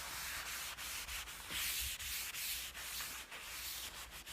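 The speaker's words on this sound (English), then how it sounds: "And now I'm going to start wiping it off." Rag wiping stain pigment off kitchen cabinets during refinishing, a steady close scrubbing rub with repeated strokes and brief pauses, no talking.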